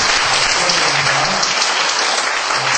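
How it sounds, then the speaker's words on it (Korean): A church congregation applauds newly appointed deacons, a dense, even wash of clapping that holds steady throughout. "박수 한번 드리겠습니다."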